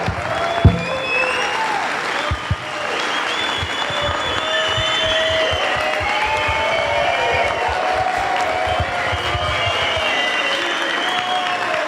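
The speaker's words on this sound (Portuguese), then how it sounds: "Vamos levantar e aplaudir de pé Ciro Gomes." A standing audience at a political gathering in Brasília bursts into sustained applause with cheering and whoops, loud and continuous for the whole stretch, filling the room without any speech over it.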